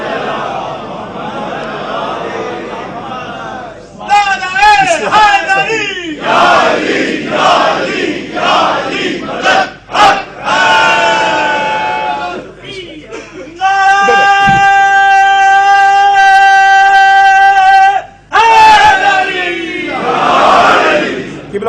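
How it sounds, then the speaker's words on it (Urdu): A crowd chants blessings (durood) together in loud, rhythmic unison bursts, with sustained tonal recitation and pauses between phrases. "درود پڑھیے مل کے بلند آواز کے ساتھ۔"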